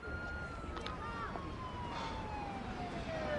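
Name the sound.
ambulance siren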